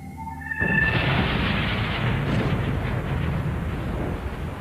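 A massive volcanic eruption in Siberia bursts in as a sudden deep boom after a short tonal lead-in, then a sustained, loud rumbling roar that fills the rest of the clip without letting up.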